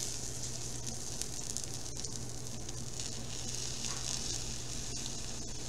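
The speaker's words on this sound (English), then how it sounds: "can you hear that sizzle?" Fresh sourdough hot cross buns just out of the oven give off a soft, steady sizzle, a faint, even crackling hiss heard close up with no talking.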